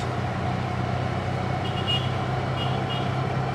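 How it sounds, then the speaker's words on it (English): Small truck passing close by a moving tuk tuk on a town road, its engine rumble blending into steady road and engine noise, with a faint high tone near the end. "we'll let the little truck go by us"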